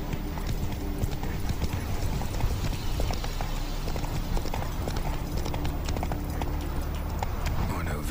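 Roach the horse trotting in The Witcher 3 game, a steady rapid clip-clop of hoofbeats running throughout over a low rumbling bed, with a voice speaking faintly beneath.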